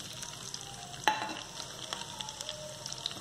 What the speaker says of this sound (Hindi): हमें इन सभी चीज़ों को बिल्कुल हल्का भूनना है।